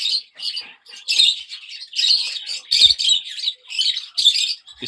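Common leopard lovebirds, a male and female pair in a breeding cage, chirp and tweet in quick, repeated bursts, close and fairly loud, with short gaps between calls.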